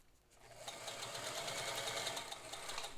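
A Singer 201K sewing machine made in Scotland stitches through two layers of fabric-backed vinyl, a steady rapid mechanical whir with rhythmic needle ticking that starts after a brief quiet moment.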